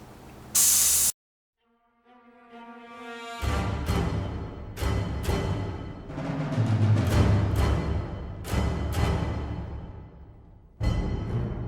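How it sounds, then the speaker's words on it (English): An airbrush hisses in repeated bursts of spray onto a 1/48 scale F-14D Super Tomcat model, separated by short pauses, with a brief compressor-like hum early on. "all this dirty spray work is all now done"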